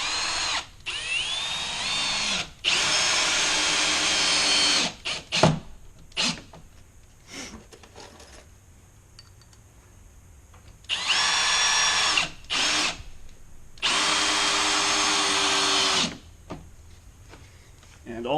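Power drill driving screws into a deadbolt strike plate, several loud whirring bursts of a few seconds each with quiet gaps, clicks and handling noise between runs.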